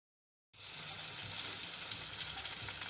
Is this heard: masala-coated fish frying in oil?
yes